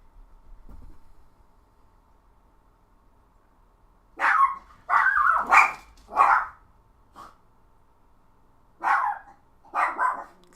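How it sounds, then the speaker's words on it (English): A dog barks in two bursts from nearby, first a run of four or five sharp barks and then, after a short pause, three more, with quiet room tone before and between. "Excuse my dog's barking."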